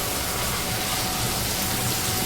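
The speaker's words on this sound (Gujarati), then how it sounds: "જો કેટલો વરસાદ છે" Heavy rain pours steadily and densely during a Ganpati arrival procession in Vadodara, a constant close wash of drumming water with no break.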